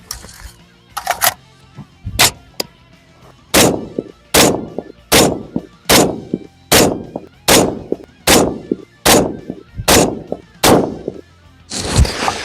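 A 6 ARC rifle fires Mil Match ammunition, about ten loud, sharp shots spaced roughly a second apart, each report followed by a short ringing decay, heard close with no talk.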